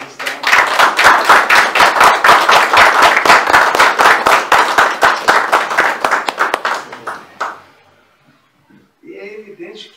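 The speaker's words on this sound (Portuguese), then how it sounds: "solicitar a todos uma calorosa salva de palmas em reconhecimento ao Dr. Ivonei" An audience claps warmly at an official swearing-in ceremony, dense applause filling the room for about seven seconds before fading out, followed by a few faint voices.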